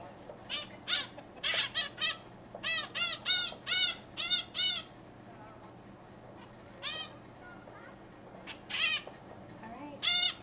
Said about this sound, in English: Here we have a white-breasted nuthatch.